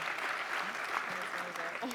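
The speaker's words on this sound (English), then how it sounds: "Give her a big round of applause" Audience applause at a business networking session, a short burst of clapping from a modest room, fairly quiet, with a voice speaking over it.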